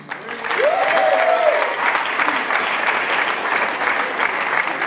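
Applause from the audience at a radio awards ceremony rises quickly and holds steady for several seconds as a special recognition award is presented, with a brief whistle near the start.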